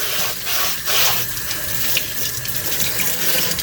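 Tap water runs steadily into a sink while soy milk maker parts, including a mesh filter, are washed, a continuous close splashing hiss with no talking.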